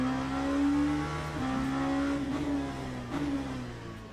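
LMP2 prototype race car engine in Le Mans Ultimate, a steady loud high-revving drone held close, dipping briefly at upshifts around each second and a half before climbing again, with no voices.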